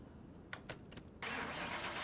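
A 1997 Land Rover Defender engine in Car Mechanic Simulator 2021, quiet starter cranking in a few short bursts before the engine catches and settles into a steady, fuller running rumble.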